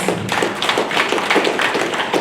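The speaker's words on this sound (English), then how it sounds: "Please, let us give them a round of applause." Audience applause at a Women's Month proclamation signing, a brisk, uneven clatter of hand claps from a modest crowd, fairly loud and continuous, with no talk over it.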